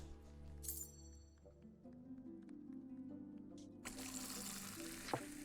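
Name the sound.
pouring a pint of beer in the video game Fable 2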